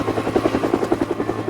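Helicopter rotor beating steadily and close, a rapid regular chop over a low engine drone, with no speech.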